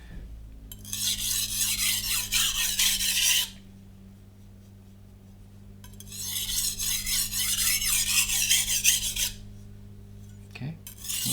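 A knife blade is drawn across a Japanese natural Amakusa whetstone in two long passes, each a steady, close gritty rasp lasting about three seconds, with a quiet pause between and a small click near the end.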